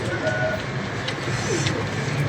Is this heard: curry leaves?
no